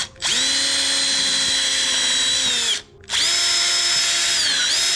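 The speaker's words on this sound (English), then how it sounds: "we have to drill 2 holes, one here and one there" A power drill whirs in two bursts while drilling holes in plastic, spinning up, running steadily and winding down, with a short gap between them.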